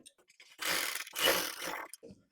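A sewing machine stitching a pleat on a lined suit runs in two short mechanical whirring bursts close by, with light clicks and handling of cloth between them.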